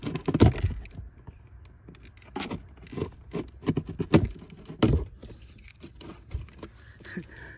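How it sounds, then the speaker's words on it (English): Knife cutting a small notch in a cardboard camper counter cabinet, close-up scraping and slicing in short irregular bursts with a few louder strokes, no talking. "I'm gonna cut a little notch so that that knot could go there"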